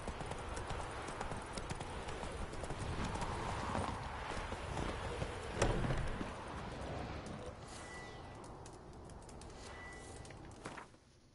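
A horse gallops in The Witcher 3 with continuous rapid hoofbeats under a dense, steady game soundscape, fading quieter toward the end.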